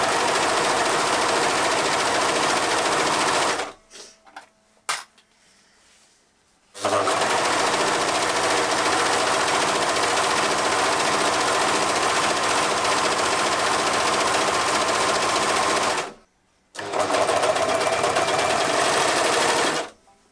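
A sewing machine runs loudly in long steady stretches of stitching cotton fabric, stopping briefly twice before starting up again.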